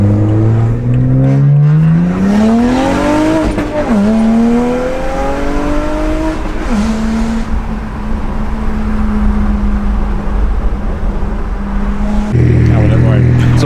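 A straight-piped BMW 135i coupe accelerates hard along a B road, its loud, close exhaust rising steadily in pitch through several gear changes before settling into a sustained high drone and briefly dropping at the end.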